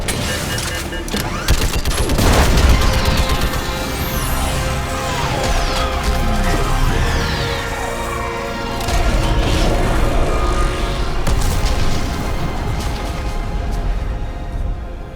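Sustained barrage of weapons fire and a heavy orbital strike on a live Reaper in Mass Effect 3, loud booming impacts and crackling gunfire layered with dense battle effects throughout.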